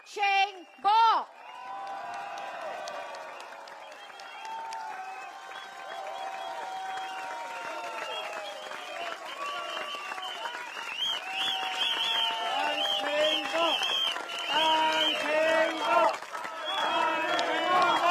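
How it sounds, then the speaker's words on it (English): A crowd at a Singapore election rally, a Progress Singapore Party event in Marymount, applauds and cheers as the party's founder arrives. Steady clapping and voices fill the space, with someone speaking over the crowd at the start. "Please put your hands together, ladies and gentlemen."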